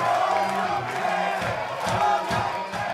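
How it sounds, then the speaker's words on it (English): A crowd at a punk concert cheers and whoops, a loud, steady roar of many voices with swelling shouts rising and falling. "the crowd's just kind of cheering like, woo!"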